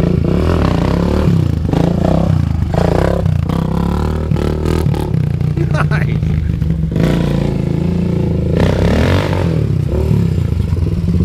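A dirt bike doing wheelies in a backyard on a rainy day, its engine revving and surging up and down at close range, with clatter and scraping and people talking and shouting over it.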